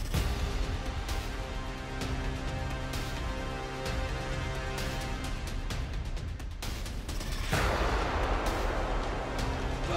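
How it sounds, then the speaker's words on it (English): A film-set explosion for a Star Wars production, a loud broadband burst with rumbling booms throughout and a big blast near the end, with no talk. "Running away from an explosion."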